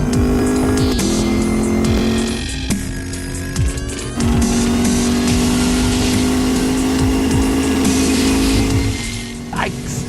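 A Lexus LC500 engine roars loudly under hard acceleration, the pitch climbing and dropping with each gear shift, steady and close throughout.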